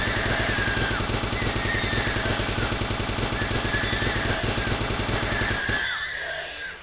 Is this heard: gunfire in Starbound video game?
yes